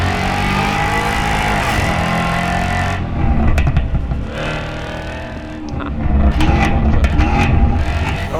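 Jaguar F-Type engine in the Assetto Corsa racing game, a loud continuous drone that shifts pitch as the car accelerates and revs, with gear changes audible partway through.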